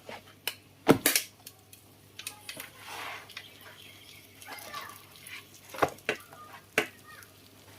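Spinach cake pan-frying under a lid: a soft, low sizzle broken by scattered metallic clanks and scraping knocks of cookware, quiet and close, with no voices.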